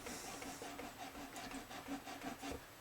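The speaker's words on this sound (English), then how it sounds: "take a 400 fret eraser, 400 grit. Let's just run that over there a few times." Someone rubs a 400 grit fret eraser back and forth over the frets of a Hagstrom HL550 hollowbody guitar, making faint, close, rhythmic scrubbing strokes, roughly a dozen in quick succession.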